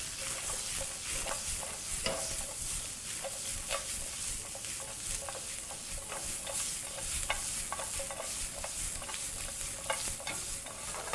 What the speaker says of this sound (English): proceed to add those to the pan, still frying at high heat of course